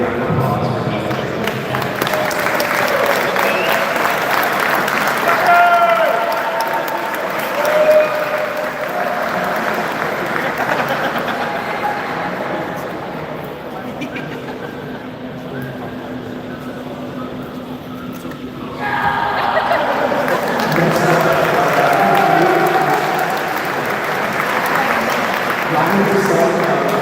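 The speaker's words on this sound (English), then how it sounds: "Let's give a big round of applause for Behrend." An audience at a Penn State Behrend event applauds at length, a sustained roar of clapping that dips midway, then swells again, with voices mixed in.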